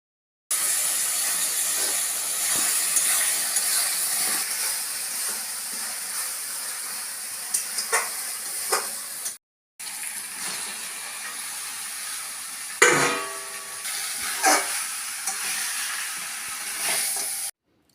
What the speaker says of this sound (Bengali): তো চিকেনগুলোকে এখন দিয়ে দিয়েছে মশলার মধ্যে, দিয়ে কষিয়ে নিচ্ছে।